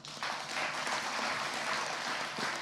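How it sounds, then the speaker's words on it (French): Steady, dense applause from a festival audience at a film festival closing ceremony, honouring the documentary filmmakers in competition, filling the hall continuously with no voices over it. "Vous pouvez les applaudir, ils le méritent."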